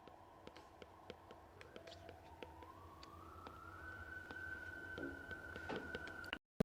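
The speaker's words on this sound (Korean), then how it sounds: "하루 종일 저 사이렌 소리가 나냐?" A distant siren wails faintly, its tone slowly rising and holding, with scattered clicks and taps closer by.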